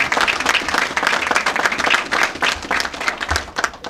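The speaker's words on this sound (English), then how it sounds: "give yourselves a big round of applause" Audience applause at a state government accreditation announcement, a dense, steady round of clapping from a crowd lasting a few seconds.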